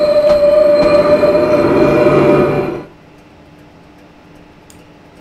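A train in Train Simulator 2019 rolls past loudly with a rushing, rattling roar and a faint tonal squeal, then cuts off abruptly to quiet near the three-second mark.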